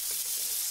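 Trevally fish frying in a pan just after being flipped, a brief dense close sizzle with a constant hiss.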